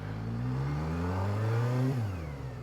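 An SRK 900 RR motorcycle engine revs up in a smooth, close, rising whine. The pitch climbs steadily for about two seconds, then drops sharply as the throttle is released.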